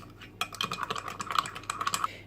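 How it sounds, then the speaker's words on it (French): Yeast being stirred into a small amount of warm water with a spoon, giving a quick run of light clinking, tapping taps against the bowl over a couple of seconds, close and fairly faint. "j'ai 60 ml d'eau tiède à laquelle je vais ajouter 3 cuillères à café de levure boulangère. Bien mélanger."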